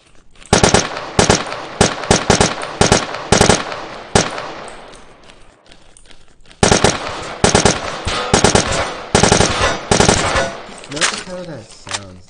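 Assault rifle fire in the CrossWar shooter game comes in loud, repeated short bursts and single shots, with a brief quieter stretch in the middle before the bursts resume.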